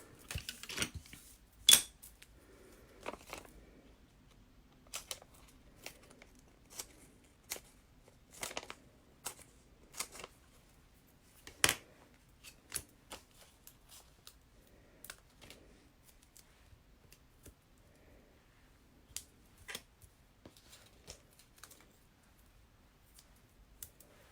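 Paper snips cut small cardstock pieces for a handmade birthday card, giving sparse, sharp clicks and crisp snaps at an irregular pace, close and fairly quiet against a near-silent background with no talking.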